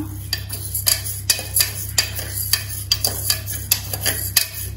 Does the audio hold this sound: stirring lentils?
yes